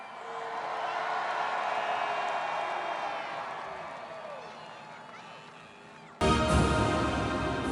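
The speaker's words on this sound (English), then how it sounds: "Give another cheer up for your champion" A huge crowd at the Kansas City Chiefs Super Bowl victory parade roars and whoops from a distance, swelling and slowly fading before an abrupt, louder burst of noise near the end.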